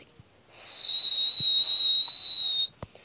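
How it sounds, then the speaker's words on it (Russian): A person whistles a single long, steady, high note held for about two seconds, clear and close, with a few faint clicks before and after. "второй способ свистеть"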